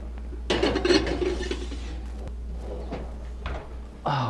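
A covered baking dish of fennel slides into a 350-degree oven, with a few close clatters and knocks of the dish and oven rack over a steady low hum, ending in a brief thud.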